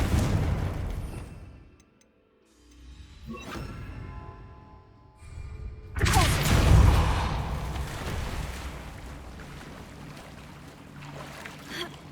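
Confringo blasting spell explosion in the video game Hogwarts Legacy, a sudden loud boom with a crackling blast that decays into a rumbling tail, after a brief shouted voice.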